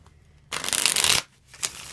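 A deck of tarot cards riffled in one quick, loud burst of rapid flutter, then a softer slap and short rustle as the cards settle.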